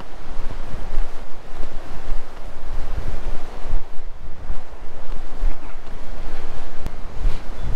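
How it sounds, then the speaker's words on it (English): Strong wind blows at a fishing platform on Granger Lake, buffeting the microphone with a steady, loud roar and gusty low rumbles throughout, with no talking. "It is so windy today."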